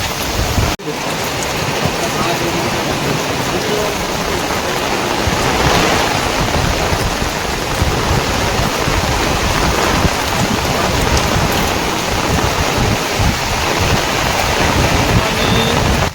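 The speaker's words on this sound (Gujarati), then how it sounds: "ધોધમાર વરસાદ વરસી રહ્યો." Heavy rain pours at Songadh Fort in Tapi district, a loud, unbroken roar of water on surfaces that stays constant throughout.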